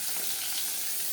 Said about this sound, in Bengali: মাছটা ভাজতে বললাম